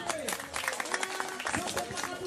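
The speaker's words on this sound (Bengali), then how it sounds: "গৌরবের জন্য একটু হাততালি" Applause from an audience at a drawing competition prize-giving ceremony, a dense, steady clatter of many hands clapping throughout with some crowd murmur mixed in.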